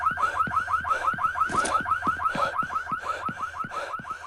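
A pulsing, warbling alarm wails nonstop in the survival video game No One Survived, its rapid, evenly repeating tone loud and steady throughout.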